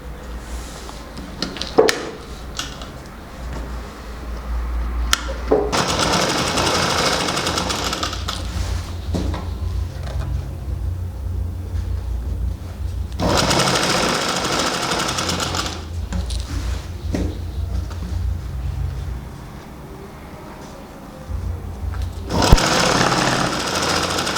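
Electric sewing machine stitching along the folded hem edge of a baby frock, running in long steady bursts with brief pauses between them, close and fairly loud, with no talking.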